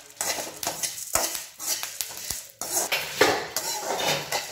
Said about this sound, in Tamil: அப்படியே கொஞ்சம் கொஞ்சமாக நேரம் ஆக தான் செய்யும், வெயிட் பண்ணி தான் வறுத்தாகணும்